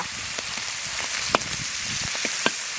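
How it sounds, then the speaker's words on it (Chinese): Minced meat stir-frying in a hot wok with chopped scallion, ginger and garlic, giving a steady close sizzle broken by a few light scraping clicks of the spatula. "肉末炒起以后，下入葱姜蒜末"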